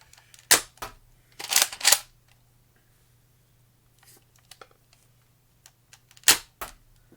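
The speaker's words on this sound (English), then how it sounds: "It's a single shot muzzle loading bolt action blaster" A modded Skid Shot single-shot, muzzle-loading, bolt-action dart blaster gives sharp close snaps and short mechanical bursts of bolt handling, separated by near silence.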